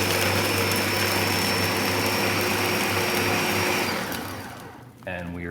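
An electric blender whirs loudly while mixing a festive cocktail, a steady high motor whine that runs for about four seconds, then winds down and stops as voices begin talking.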